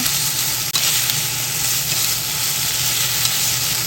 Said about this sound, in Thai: ใส่น้ำมันลงไปนิดหน่อย แล้วก็ผัดกับเบคอนเลยนะคะ ใส่เต้าหู้ทอดลงไปนะคะ